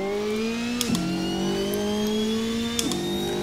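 Ferrari 458 GT2 engine in the racing game Assetto Corsa, a loud steady high-pitched whine rising through the gears with two quick upshift dips, heard alone.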